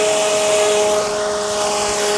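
A DIY carbon-fiber model airplane, the Breeze, built from laptop shells, runs its electric motor at full throttle for takeoff: a loud, steady high whine with a slight dip midway and no voices.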